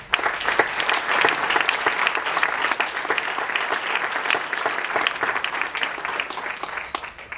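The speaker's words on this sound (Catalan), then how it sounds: "Un fort aplaudiment per a Caït." A hall crowd gives a strong, sustained round of applause at a local political speech, dense hand clapping throughout that thins slightly toward the end.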